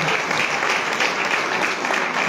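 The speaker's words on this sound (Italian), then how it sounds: "Fate un applauso perché hanno lavorato due mesi per essere qui stasera" Sustained audience applause at an evening awards ceremony for a women's prize in Canosa di Puglia, Italy, dense and steady clapping throughout with no voices over it.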